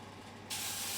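Water poured from a small coffee kettle into a hot oven with sourdough loaves baking bursts into a sudden loud steam hiss halfway through, following a faint quiet start.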